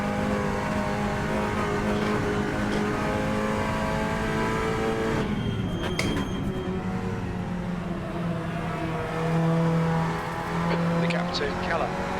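A race car in Assetto Corsa laps Mugello, its engine droning and rising and falling through the throttle with brief tire noise, while a driver talks over the steady racing sound throughout.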